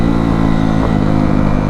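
Kawasaki KX250F dirt bike engine held at half throttle, a loud steady buzzing drone that stays close throughout with no break.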